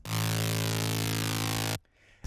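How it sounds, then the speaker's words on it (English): A single modified saw wave patch in the Serum synthesizer holds one steady, buzzy, harmonically rich note for nearly two seconds at full loudness, then stops abruptly, leaving near silence and a faint click. "I just have one saw wave in Serum, a bit modified, and it just sounds like this"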